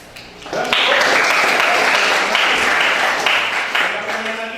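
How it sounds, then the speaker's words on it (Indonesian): Applause from students in a classroom at a light-vehicle engineering workshop, given for a student group after a presentation; many hands clap loudly and steadily for several seconds, with a few voices mixed in. "Tepuk tangan dong untuk kelompok 4."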